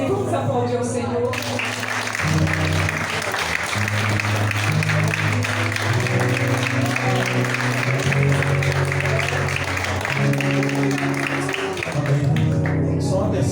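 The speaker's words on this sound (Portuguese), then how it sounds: "Vamos aplaudir ao Senhor." A church congregation applauds during a Pentecost service, with steady clapping under held organ or keyboard chords that run throughout, and voices mixed in.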